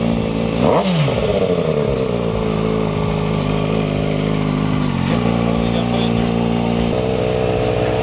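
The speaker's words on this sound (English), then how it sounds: "Remember, it's full throttle." A 2020 Kawasaki ZX6R 636 sport motorcycle revs hard at full throttle, holding a loud, close, high-pitched engine whine with a quick rise early on and a brief dip midway.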